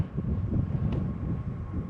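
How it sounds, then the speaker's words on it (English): Steady wind on Belmont Mountain buffets the microphone with a constant low rumble, loud and continuous throughout. "man, it's windy"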